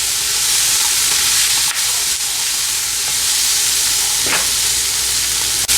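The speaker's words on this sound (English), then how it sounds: "Stir this mixture well until they cook slightly." A green pepper and chili mixture fries in a pan for chili chicken, giving a steady loud sizzle with a couple of brief scraping stirs and a faint clink near the end.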